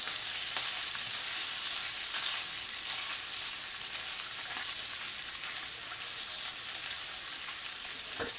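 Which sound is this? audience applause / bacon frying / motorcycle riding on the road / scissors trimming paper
bacon frying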